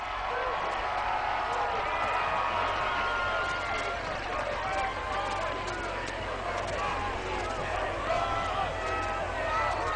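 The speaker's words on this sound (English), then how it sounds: "That's the applause you hear coming from the far side." Distant applause and crowd noise drift across a high school football stadium at a state semifinal game, a steady wash of clapping and murmur that runs unbroken for the whole stretch.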